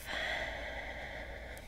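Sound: deep breath in during guided meditation

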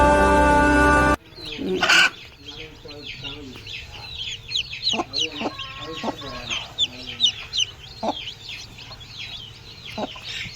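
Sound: chicks and chickens clucking

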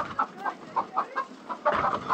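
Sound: chicken clucking

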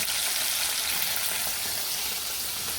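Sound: fish frying in a pan

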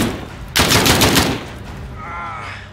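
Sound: gunshots in video game Call of Duty Modern Warfare

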